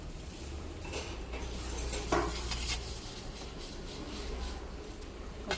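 Metal plate scrubbed in a steady, continuous scraping rhythm, close by, with occasional clinks of dishware and no talking.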